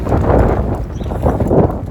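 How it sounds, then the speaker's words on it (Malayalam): Strong wind buffets the microphone on Mittai Theruvu, an open market street in Kozhikode, during a Sunday market, a loud continuous low rumble with gusty swells throughout. "മിഠായി തെരുവിൽ നല്ല കാറ്റുണ്ട് കേട്ടോ"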